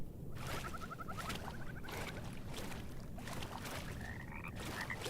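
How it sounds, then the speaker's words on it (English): A frog in the game Mortal Shell croaks in a rapid rattling series, a couple of bursts over a steady ambient background, with no talk. "There's the frog."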